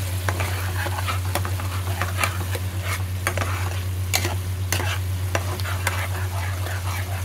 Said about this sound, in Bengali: দেখুন, আমার মশলা ভাজা হয়ে গেছে।